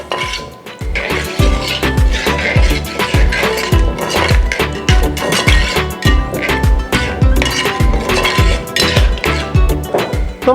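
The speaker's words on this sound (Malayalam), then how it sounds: "ഇനി നമുക്കിതിലോട്ട് നമ്മുടെ ഒന്നാം പാൽ, അരമുറി തേങ്ങയുടെ ഒന്നാം പാൽ, ഏകദേശം 50 മില്ലിയോളം ഒന്നാം പാലുണ്ട്, നമുക്ക് ചേർത്ത് കൊടുക്കാം. നന്നായി ഒന്ന് മിക്സാക്കി എടുക്കണം." Beef perelan curry with thick first-press coconut milk stirred in a pan, steady rhythmic metallic scraping and clinking of a spoon against the pan, loud and close, repeating throughout with no voices.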